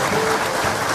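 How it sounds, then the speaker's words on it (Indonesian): Studio audience clapping in a short, loud, dense burst at an Indonesian television talk show, with no speech over it. "Tepuk tangan buat Albutil Concentrate."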